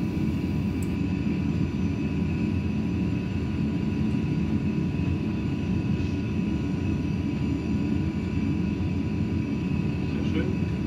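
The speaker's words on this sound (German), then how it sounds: "Bei 140 Meilen ging es dann ab in die Luft." Airplane engine in flight just after takeoff, heard from inside the cabin as a loud, steady broadband drone that holds an even level throughout with no clear breaks.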